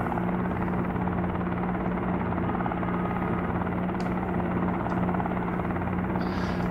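Simulated helicopter in flight from a helicopter simulator game, a steady continuous rotor and engine drone with a low hum, holding at an even level throughout with no talking.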